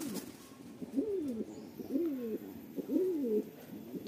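Rampuri pigeons coo in a loft, repeated low rolling calls at roughly one-second intervals, close and clear over a quiet background.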